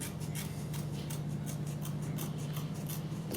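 Scissors trimming and chamfering the edge of a healing cast on a diabetic foot ulcer: a steady run of quick, rhythmic snips and rasping cuts close up.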